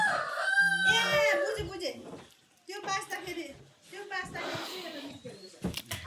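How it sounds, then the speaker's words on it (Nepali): A rooster crows close by in one long, loud call at the start, followed by clucking-like sounds and a voice talking through the rest. "भाले कोक्रा कोक्रा गर्दैछ यहाँ"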